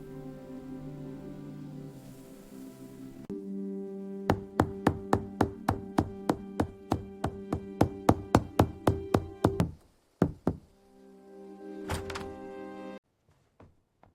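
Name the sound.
knocking gently on a cottage door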